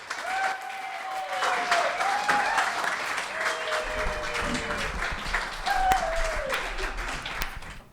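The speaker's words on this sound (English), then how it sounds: "I want you to give him a super extra warm round of applause" A seniors' storytelling audience gives a warm round of applause, sustained dense clapping throughout with whoops and cheers rising over it, a crowd filling the room.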